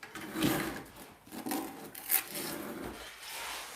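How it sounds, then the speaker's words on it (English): A half-inch V-notch trowel scrapes thinset mortar on tiles for a shower curb, making a few rough, rasping strokes up close with short pauses between them. "take my half inch V-notch and then scrape the excess off on the curb"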